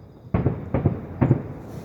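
Fireworks from the Nowra Show burst at a distance: three muffled booms about half a second apart, each with a short rumbling tail, with no voices over them.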